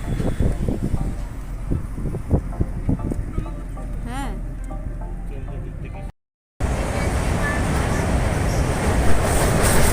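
A train rumbles steadily along the rails with a constant low roar, crossing the Brahmaputra out of Guwahati, Assam; faint indistinct voices come through early on.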